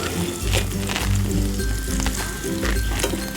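Whole spices (bay leaf, cardamom, cloves and cinnamon) sizzle in the oil left from frying paneer, a steady loud crackle with small clinks of a utensil, no voices over it.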